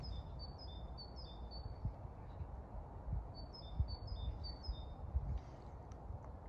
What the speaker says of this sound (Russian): Птичку-синичку вам.